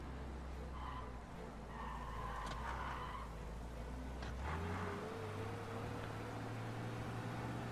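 Car driving in Mafia: Definitive Edition, a steady low engine hum with tire skids and squeals partway through, then a rising engine tone, moderately faint with no speech.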